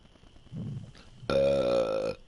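A single long, loud, tonal burp from a man, drawn out for nearly a second and heard close up and alone.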